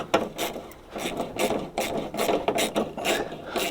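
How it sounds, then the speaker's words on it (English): Ordinary spanner working the three bolts off a car headlight, a run of close rasping, ratcheting scrapes in irregular bursts, fairly loud and steady with no voices. "So we'll take the 3 bolts out for the headlight. I'm just using an ordinary spanner for this."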